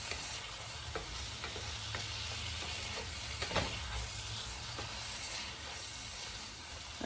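Vegetables sizzle in a hot pan as they cook down, a dense, steady frying hiss with occasional soft stirring clicks, close and continuous without any talking.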